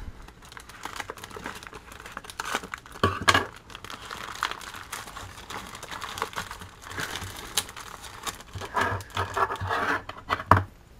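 Irregular crinkling and rustling of plastic packaging as a Huawei P10 Plus phone is unboxed, handled up close, with sharper snaps and crackles scattered throughout; no voices.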